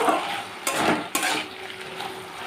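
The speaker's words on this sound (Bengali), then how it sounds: "আরও কিছুক্ষণ এটা নাড়াচাড়া করে নেব।" Dharosh kasundi, okra cooked with mustard, stirred in a pan in short scraping strokes, with a couple of sharp spatula knocks against the metal over a low sizzle.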